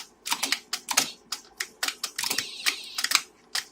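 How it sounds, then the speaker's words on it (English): Fingers type on a clicky mechanical keyboard of an IBM XT computer, a close run of sharp, irregular keystroke clacks with brief pauses, some keys struck in quick bursts, with no speech. "It's a very clicky keyboard. It's mechanical."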